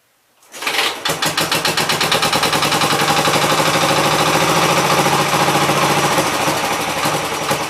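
Wisconsin engine cranking and firing after a short silence, quickly settling into a loud, steady, rapid chugging run that carries on unbroken to the end.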